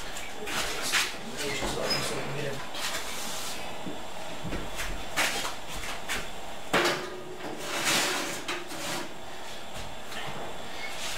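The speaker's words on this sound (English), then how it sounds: "As the door closes, we're good." A door closing during a home beer-brewing session: a few soft clunks and rustling knocks spread across the stretch, with a sharper thud partway through, over a steady room hum.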